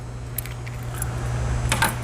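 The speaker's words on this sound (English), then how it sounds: "work keys" A mechanic's ring of work keys jangles in a few quick metallic shakes against a low steady hum, fairly close and with no talking.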